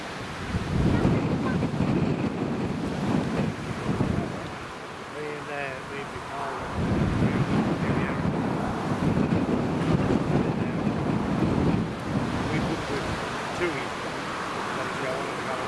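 Strong crosswind buffets the microphone at Newcastle International Airport, a loud continuous rumble with brief lulls and faint background tones.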